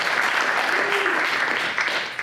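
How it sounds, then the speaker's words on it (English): An audience bursts into sustained applause for the judges at a startup competition, dense clapping filling the room and tapering slightly toward the end. "Can you give us a round of applause for our judges for all the hard work they've already done?"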